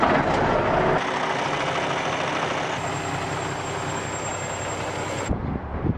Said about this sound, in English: Let's listen to this Cummins purr.